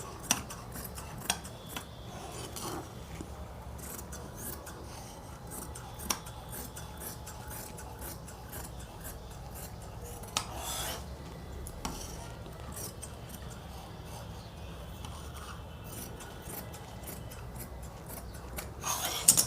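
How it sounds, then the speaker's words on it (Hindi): Scissors snip through suit sleeve fabric on a tailoring table, a steady series of quiet close crisp cuts and rubbing scrapes with occasional sharper clicks, no voices. "तो आइए इसकी हम कटिंग कर देते हैं आस्तीनों की।"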